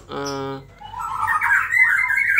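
A white-rumped shama (murai batu), a hot-tempered, vocal type, sings a short varied phrase. It opens with a brief harmonic note, then rapid bright warbles and trills follow, clear and close, with no talking.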